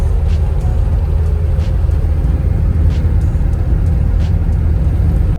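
A campervan drives through the West MacDonnell Ranges, its steady, loud road rumble and engine drone continuous and close, with faint ticks over the low noise.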